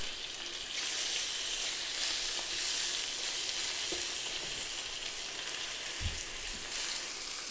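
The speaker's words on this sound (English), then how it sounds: "I'm just gonna drop the chicken thighs in batches. So I'm gonna do about 4 at a time. And you can hear the sizzle." Chicken thighs frying four at a time in hot oil in a pan for a lemon-and-caper braise give a steady, close sizzle throughout, with a few soft pops and knocks from the pan.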